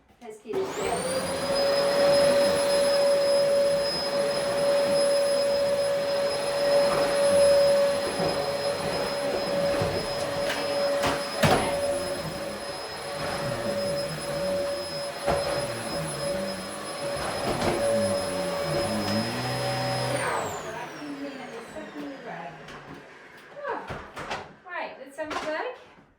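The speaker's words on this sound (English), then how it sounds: "To empty this vacuum, it's really full" A full household vacuum cleaner runs close by with a loud steady whine for about twenty seconds, then winds down to silence while someone talks over it.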